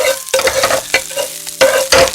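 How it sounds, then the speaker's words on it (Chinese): Chopped scallions hit hot oil in a wok with a bright sizzle, broken by several quick stirring scrapes and clanks in an uneven rhythm, close and loud, with no voices. "我们先放一部分葱花炝锅"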